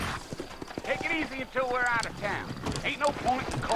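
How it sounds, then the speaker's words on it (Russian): Horse hooves clip-clop at a steady gallop in Red Dead Redemption on Xbox 360, with wind noise and a voice talking over them. "скачка на лошади."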